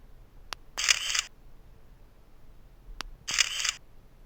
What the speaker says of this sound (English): you also hear a ding when you take a photo